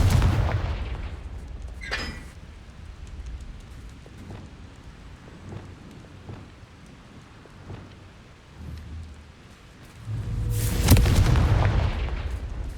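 Booming blasts from the Confringo fire spell in Hogwarts Legacy: a loud burst at the start, a sharp crack near two seconds, rumbling impacts through the middle and a big roaring explosion near the end.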